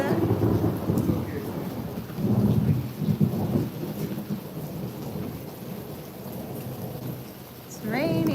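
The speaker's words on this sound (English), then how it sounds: "It's actually raining a lot" Heavy rain pours steadily while low rolls of thunder swell and fade beneath it, with the downpour close and dense throughout.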